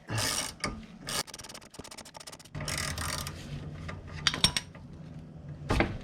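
Metallic ratcheting clicks and grinding knocks from a jaw puller working a control arm bushing on a BMW E46, in irregular bursts with brief pauses, close and fairly quiet.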